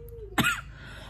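A single short cough from someone recovering from an illness, sharp and close, cutting briefly through a quiet room with a soft low hum underneath.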